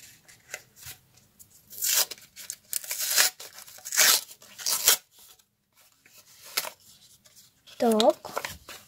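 A paper surprise packet is torn open in several quick, loud ripping bursts with crinkling between them, close up, and a voice briefly speaks near the end.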